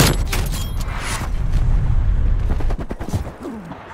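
Call of Duty Cold War gameplay: a dense, loud barrage of gunfire and booming artillery blasts, rapid overlapping shots and rolling explosions that thin out toward the end.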